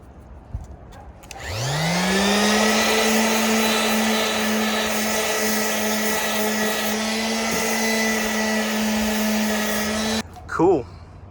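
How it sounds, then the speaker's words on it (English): Power sander fitted with 150 grit sandpaper working a fiberglass-style hard top for a Suzuki Samurai: the motor spins up quickly into a steady, loud whine that holds for about eight seconds, then cuts off. "So I got a sander out, put some 150 grit on it, finish up with like some 220 or something."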